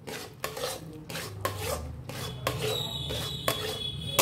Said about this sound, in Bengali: সুন্দর করে নাড়তে থাকতে হবে, তলায় যেন একটুও না বসে যায়